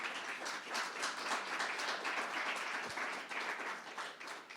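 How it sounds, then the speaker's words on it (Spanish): A church congregation applauds together, a dense, steady wash of clapping at moderate distance that holds for several seconds. "Dale un aplauso al Señor."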